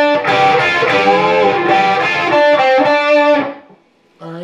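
Distorted electric guitar plays a blues-rock solo lick, loud bent and sustained notes over about three and a half seconds, then a short pause before another note.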